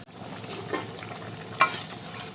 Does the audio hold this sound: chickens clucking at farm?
no